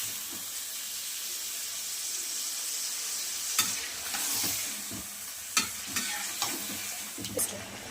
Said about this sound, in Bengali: দেখুন এবার ম্যারিনেট করা মাংসটা ঢেলে দিয়েছি, দিয়ে কষাতে লাগবো সুন্দর করে।